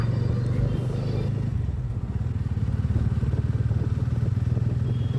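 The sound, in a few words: motorcycle setting off on a ride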